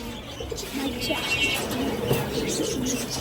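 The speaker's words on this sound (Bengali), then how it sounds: "এই তো কবুতর আছে।" Soft pigeon cooing, low and rounded, repeating in short phrases at close range, with faint chirps and rustling around it, at a pet bird market.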